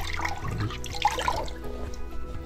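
Water poured from a small cup over a leather hiking boot, a brief close splashing and trickling that runs off the surface for a couple of seconds.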